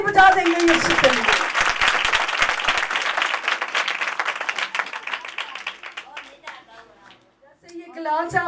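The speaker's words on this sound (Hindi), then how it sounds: "जोरदार ताली बजा देंगे यीशु के लिए" A church congregation claps loudly for Jesus while a voice rises over the start. The applause gradually thins and fades, and she speaks again at the close.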